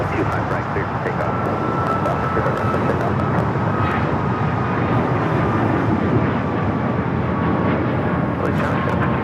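An American Airlines plane taking off from runway 25 right at LAX makes a continuous loud, rumbling jet roar that holds steady and fairly close, with faint voices over it.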